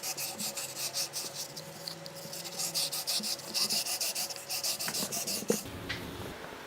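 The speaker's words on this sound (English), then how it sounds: "Remember to move your sandpaper around." Sandpaper rubbing by hand over a small surface, a rhythmic series of close, raspy back-and-forth strokes that pause briefly before a final few rubs.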